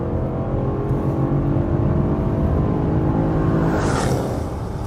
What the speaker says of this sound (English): It's great sounding V8